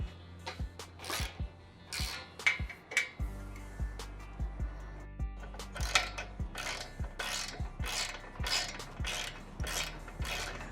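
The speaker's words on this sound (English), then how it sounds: "we'll begin tightening the hardware" Hardware on a MotoTote MTX Sport motorcycle carrier is tightened with a ratchet, giving a steady run of close metallic clicks in uneven bursts with no one speaking.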